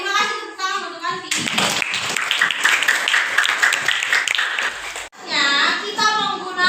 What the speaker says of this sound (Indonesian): terima kasih tepuk tangan untuk Anti